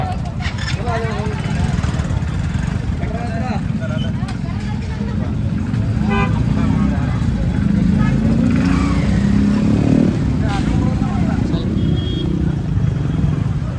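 A motorcycle ride gives a steady low engine rumble and road noise throughout, with people talking loudly over it nearly the whole time.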